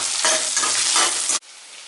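Cut tomatoes and onions sauté in a pan for an egg gravy. A loud, close sizzle with pulsing stirring surges cuts off abruptly after about a second and a half.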